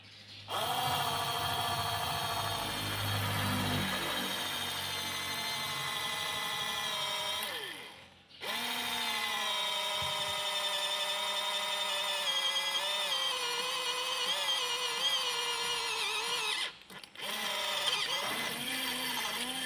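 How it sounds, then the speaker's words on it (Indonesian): A mini drill with a homemade bit whines steadily at high pitch while boring into an aluminium plate, running in long stretches broken by two brief stops. "kita akan lubangi plat aluminium ini menggunakan bor mini dan mata bor yang kita buat tadi"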